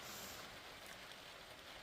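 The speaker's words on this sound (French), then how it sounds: "Quoique là, il pleut. Je ne sais pas si vous entendez," Heavy rain pours down outdoors near a brocante in Gorron, Mayenne, a dense steady hiss of drops drumming on surfaces, fairly faint and constant with no voices.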